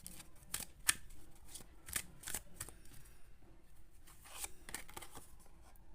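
Tarot cards are shuffled by hand, producing quiet, close papery flicks and crisp snapping clicks in an irregular series, with no talk over them.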